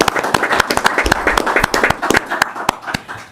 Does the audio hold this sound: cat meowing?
no